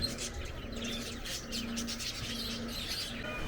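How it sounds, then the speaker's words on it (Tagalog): Small birds chirp and tweet faintly at a bee farm in Bohol, with scattered calls over a low, steady background hum. "Meron naman pala, merong ibon dito sa bee farm."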